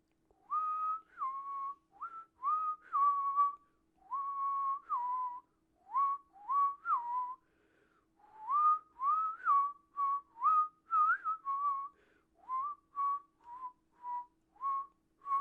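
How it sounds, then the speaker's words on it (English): A lone whistled tune in repeated short melodic phrases separated by brief pauses, clear and steady over fifteen seconds with no talking over it. "you'll all hear a faint whistling in the distance"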